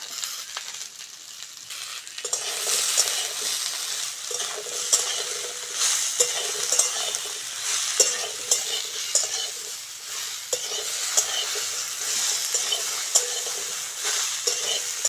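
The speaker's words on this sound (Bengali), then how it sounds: "সবজিগুলো ভালো করে ভেজে নিয়েছি বাকি সবজিগুলো দিয়ে দেবো" Vegetables for shukto, including eggplant, beans and drumsticks, sizzle in oil in a wok while a spatula scrapes and stirs them in repeated strokes, a close, busy frying noise with no voices.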